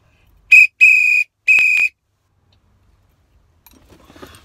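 A handheld whistle blown three times, one short blast then two longer sustained ones, loud and close, followed by silence and faint shuffling noise.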